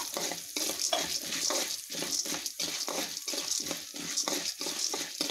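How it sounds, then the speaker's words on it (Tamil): Urad dal and chana dal sizzle in hot oil alongside mustard seeds, a dense, close frying hiss broken by repeated rhythmic scraping as the pan is stirred. "பருப்பு ரெண்டு ஸ்பூன் கடலப்பருப்பு ரெண்டு ஸ்பூன் போட்டிருக்கேன்"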